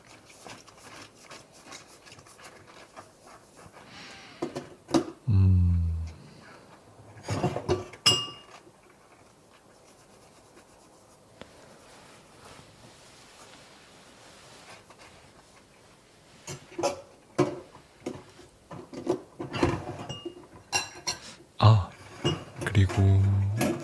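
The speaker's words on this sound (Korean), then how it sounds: "이렇게 설거지를 열심히 하고 있는 모습입니다." Dishes being washed by hand in a home kitchen, with clinks of cutlery, plates and glass, bursts of running water and scattered knocks, some spells near and busy, others quiet.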